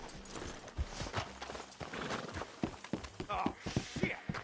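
Horses' hooves clip-clopping on the ground in the Red Dead Redemption 2 video game, a close, uneven run of footfalls with voices talking over them.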